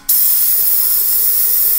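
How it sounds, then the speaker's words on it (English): A steady, loud airy hiss from an airbrush spraying water on full starts abruptly and continues evenly without pause, close by. "Open up the airbrush all the way so that it's on full spray"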